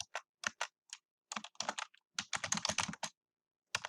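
Close, clear keystrokes on a computer keyboard come in quick irregular bursts of clicks with short pauses between them, alone in an otherwise quiet room.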